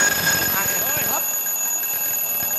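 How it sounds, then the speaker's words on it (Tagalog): An alarm rings loud and steady with high piercing tones on a live Philippine noontime variety show, continuing unbroken while people talk and shout over it. "Alarm. Alarm. Palakas yung alarm ko."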